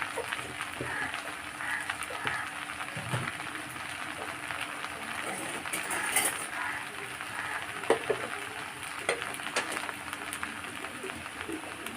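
Ghee sizzling in a hot pan, a steady close hiss of frying with occasional pops and crackles throughout.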